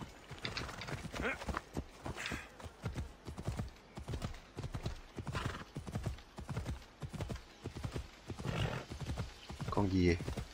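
Hooves of a horse in Assassin's Creed Odyssey clip-clop in a steady galloping rhythm throughout, with a brief whinny near the end, while someone talks over it.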